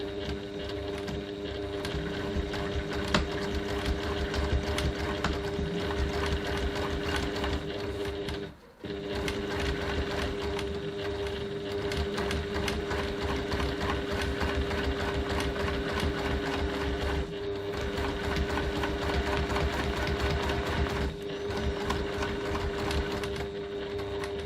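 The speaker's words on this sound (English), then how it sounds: "we're just going to stitch along this line to fasten it to our bag" A sewing machine stitches a pocket onto a bag with back tacking at both ends, a steady, close mechanical whir that runs continuously, stopping briefly once and pausing or slowing lightly later.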